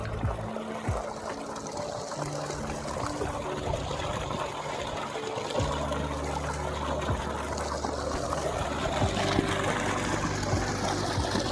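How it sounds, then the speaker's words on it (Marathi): Irrigation water runs through a farm field channel in a steady, continuous trickle and gurgle, close by and fairly loud, with a faint mechanical hum underneath and no talking. "तर हे असं इथून पाणी जातं"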